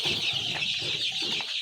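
Chicks in a brooder, a dense chorus of high-pitched peeping and chirping, close and continuous.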